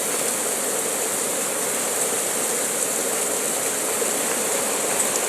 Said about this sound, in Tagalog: Puro yelo ang ulan.